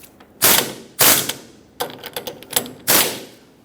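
A ratchet tightens the new 21mm ball joint mounting nut on a 1995-2004 Toyota Tacoma in short, close, loud bursts of rapid clicking, separated by brief pauses.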